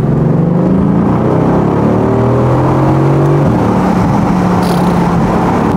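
A Mercedes-AMG GT S Roadster engine revs loud and steady with its top down, the pitch sweeping upward through rising gear-like harmonics, then dropping and climbing again over continuous road rumble.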